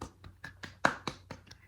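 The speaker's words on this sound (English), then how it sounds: "clap it up" About eight sharp hand claps come in a quick, slightly uneven rhythm, close and fairly faint, with no speech over them.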